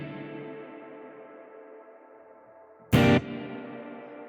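Electric guitar through a Strymon BigSky reverb pedal with decay turned up to 20 seconds, a long sustained wash of tone lingering throughout, then a sharp strummed chord whose shimmering tail keeps ringing afterward.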